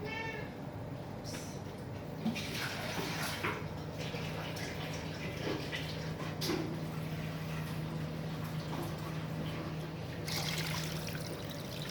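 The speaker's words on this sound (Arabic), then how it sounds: "هنحط لهم الميه بقى عشان تعمل معانا لبن" Water poured into a pot of stuffed cabbage rolls on a kitchen stove, a steady trickling and splashing stream running for several seconds at moderate loudness, close by, with no talk.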